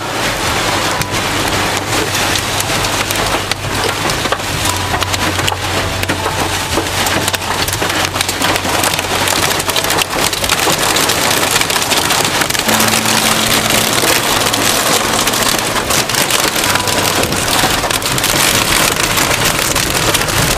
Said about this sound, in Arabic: كمية البرد اللي موجودة غير عادية